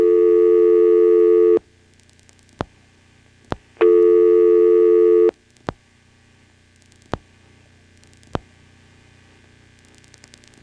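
Dialing 71 on a post-pay coin phone line served by a 1977 NX1-E exchange in Vanceboro, North Carolina: two long steady tone bursts, each followed by sharp, isolated clicks on a quiet, faintly humming line.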